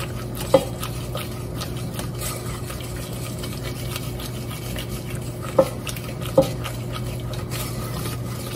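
A spoon stirs marshmallow caramel with butter in a pot for caramel popcorn, a soft continuous sticky stirring with three sharp metallic clinks against the pot, all fairly quiet and close.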